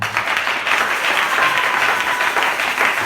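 A church congregation applauds steadily and loudly in a sustained wash of clapping that holds for the whole stretch.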